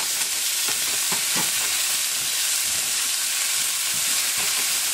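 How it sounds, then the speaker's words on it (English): Celery sticks fry in a pan while being cooked for braised short ribs, a loud, even sizzle with a few stirring and tossing clicks, and no voices. "I'm going to throw in my celery sticks, just kind of toss them so they can just kind of soften just a wee bit"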